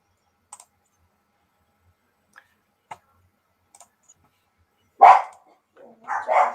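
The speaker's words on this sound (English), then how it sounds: "Oh, vicious guard dog." A guard dog barks twice near the end, loud and close, after a quiet stretch with a few light clicks.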